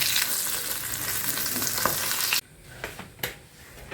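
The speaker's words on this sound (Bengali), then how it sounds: "মাছটা ভাজা হয়ে গেছে, ওই তেলেতেই বেগুনটা দিয়ে দিয়ে।" Eggplant frying in oil left over from frying fish, a dense, loud crackling sizzle that cuts out abruptly midway, followed by a quieter hiss and a few utensil knocks.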